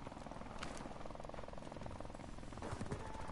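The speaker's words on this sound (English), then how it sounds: "Enemy helicopter inbound." Enemy helicopter in a first-person shooter video game, a continuous rotor thump with rhythmic chopping pulses over a noisy battlefield mix, steady and fairly close throughout.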